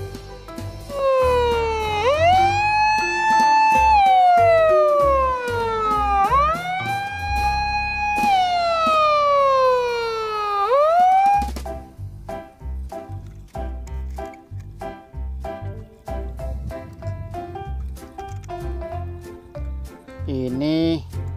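A loud wailing fire patrol vehicle siren rises and falls in repeated sweeps, then cuts off, giving way to a choppy electronic jingle and beeps.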